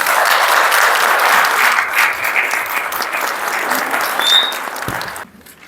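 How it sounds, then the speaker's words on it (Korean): Loud, dense applause fills an auditorium as an audience welcomes a speaker to a book-launch lecture, holding steady and then stopping abruptly near the end. "모두 환영의 박수로 맞이해주시면 감사하겠습니다."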